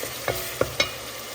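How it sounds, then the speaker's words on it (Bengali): A spice masala sautés in a pan while it is stirred for a Bengali radish-and-prawn curry: a soft, steady sizzle broken by three quick scraping stirs, close and quiet, with no talking. "এখন আমি মশলাটা ভালো মতো কষিয়ে নিচ্ছি"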